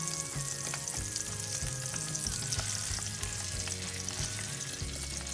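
Salmon frying skin-side down in a pan, a continuous close sizzle with bright crackle and small pops, heard alone with no talk.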